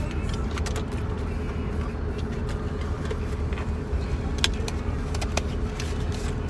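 A car cruising along a road toward the coast, the steady low rumble of engine and tyre noise filling the cabin throughout, with a few faint rattles and clicks on top and no clear talking.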